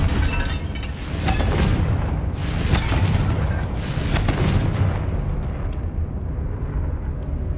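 A Confringo blasting spell explodes in Hogwarts Legacy, a loud rumbling blast with booming bursts that roll on for several seconds before fading into a low, quieter tail.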